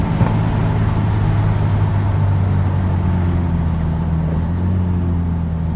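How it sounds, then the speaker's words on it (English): A car with an 8HP automatic transmission downshifting on its own while driving, heard from inside as a steady loud engine drone and rumble with slight shifts in pitch. "It's downshifting on its own."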